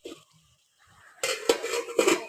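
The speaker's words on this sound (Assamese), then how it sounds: "তাৰপিছত আমি ঢাকনিখন মাৰি দিলোঁ" A lid goes onto a cooking pan of taro and tomato curry. A few quiet shuffles lead to sharp metallic clanks, two louder knocks close by with brief rattling between them.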